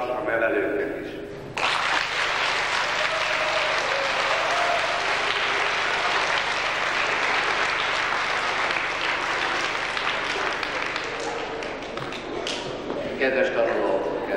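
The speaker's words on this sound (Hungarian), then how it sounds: "most szóljon egy záporozó taps a nevelőknek is" Sustained, loud applause for teachers from a school audience at a 1997 Christmas programme, starting abruptly after a brief voice and continuing as a dense, even roar of clapping for over ten seconds.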